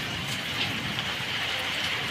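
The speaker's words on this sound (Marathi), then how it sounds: "शेवटी गडगडायला लागलंच मस्त लागतोय पाऊस" Steady, dense rainfall hisses close by during a storm, an even wash of drops with no pauses and no voices.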